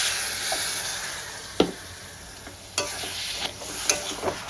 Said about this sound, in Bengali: গ্যাসের ফ্লেমটা আমি লো টু মিডিয়াম করে সামান্য একটু আমি জল দিয়ে নেব